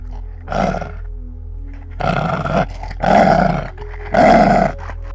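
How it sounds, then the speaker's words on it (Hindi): A dog growls strangely in four drawn-out, rough bursts separated by short pauses, loud and close over a constant low background hum. "शैडो ने फिर से अजीब तरह से गुर्राना शुरू कर दिया।"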